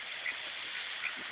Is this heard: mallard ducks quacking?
yes